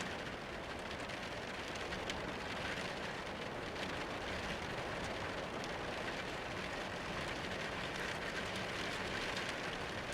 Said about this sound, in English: Rain and wind is now heard